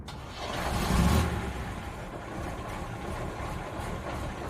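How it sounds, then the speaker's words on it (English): An old Toyota car engine starts up with a rising crank and rumble, then settles into a steady low idle, close by with no talk. "At least the engine starts."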